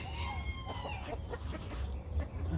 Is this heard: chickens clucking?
yes